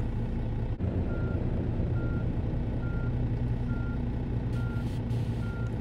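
A truck in a truck simulator game sounds its reversing alarm, a steady series of evenly spaced beeps repeating about every three-quarters of a second over a loud, constant low engine idle rumble, with no talking.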